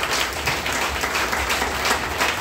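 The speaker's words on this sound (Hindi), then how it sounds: "हमारे धरती के भगवान के जोरदार ताली होना चाहिए" Steady audience applause from a crowd at a gathering honouring a doctor, dense and continuous clapping at moderate loudness for a couple of seconds with no clear voices.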